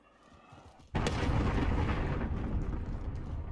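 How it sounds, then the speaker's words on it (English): Cruise missile strike in the multiplayer video game Call of Duty Black Ops Cold War: after a quiet moment, a sudden heavy blast erupts into a loud, sustained rumbling roar of explosions that carries on to the end. "Allied cruise missile launched."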